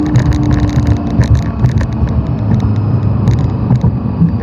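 A Lexus LFA engine sounds loud and steady throughout, a dense continuous roar with sharp bursts layered over it as it revs toward 9,000 RPM, with no talking.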